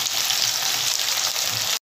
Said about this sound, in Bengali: আলু আর মুখি কচুটা ভালো করে ভেজে নেবেন